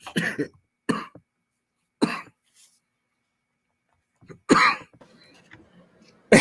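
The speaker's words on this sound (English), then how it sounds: "I was letting you get your cough out before I started talking." Someone coughs several times in short, separate bursts with quiet pauses between them, close to the microphone.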